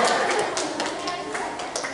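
Schoolchildren clap their hands on request in a brief, loose burst of scattered claps, close by, with talking going on over them.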